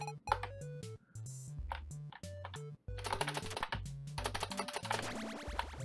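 Computer keyboard keys tapped in quick repeated bursts during a Freddy Fazbear's Pizza Simulator game, close and clicky alongside game music and effects.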